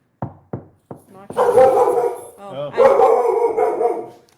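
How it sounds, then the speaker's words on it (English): A dog woken by a knock on a table gives a few short, sharp barks and then breaks into longer, drawn-out howling barks. It is loud and close, in a quiet indoor room. "I knocked on the table and I made the dog sleeping bark."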